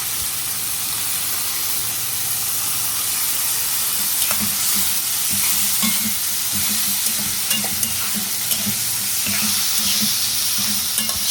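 Onion, garlic and dried chili fry loudly in a pan, a dense continuous hissing sizzle close up, with light stirring knocks throughout and no speech.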